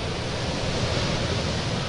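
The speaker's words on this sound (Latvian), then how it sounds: "Ļoti stiprs vējš." Very strong wind blows outdoors, a steady broadband roar with buffeting gusts against the microphone, loud and continuous throughout with no voices.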